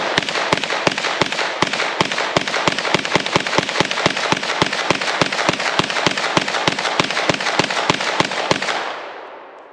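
Beretta PMX-S with Evo 3 firing at an outdoor range: a steady, rapid string of about forty loud, sharp reports at near-even intervals, close and alone, ending with a fading decay.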